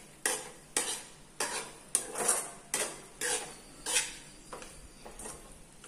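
Sesame powder is stirred into a ridge gourd curry in a pan, a spoon scraping in a steady rhythm of about nine close, distinct strokes with faint sizzling between them.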